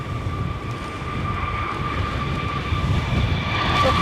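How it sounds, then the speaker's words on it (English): An easyJet airliner approaches to land in gusty winds of over 50 mph at Edinburgh airport, its jet engines whining in a steady roar that grows gradually louder, heard from a distance with wind rumble and no talk. "And right behind him is another EasyJet."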